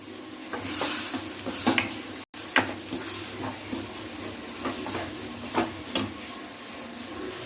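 Oysters cook in a ground masala in a pan with a steady close sizzle, broken by repeated scraping strokes of stirring at an uneven rhythm. No one speaks.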